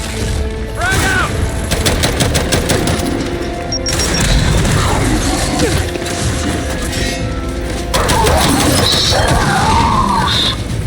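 Frag grenade explosion in the shooter game Gears 5, a loud crashing blast amid rapid gunfire and battle noise, with voices shouting over it.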